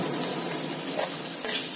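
Onions frying in oil for a Bengali fish curry, a steady close sizzle with a soft stirring scrape near the end, no voices.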